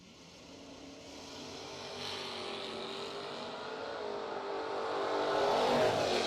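Drag racing at a radial event, a multicolored Mustang against a second-generation Camaro launching, engines roaring from a distance in a steady, rising snarl that grows louder toward the end, with no talk.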